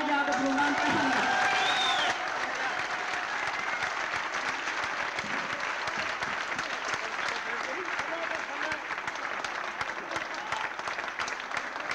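A crowd at a qawwali concert applauds loudly and continuously, a thick wash of clapping that carries on for the whole stretch, with a faint voice or tone over it at the start.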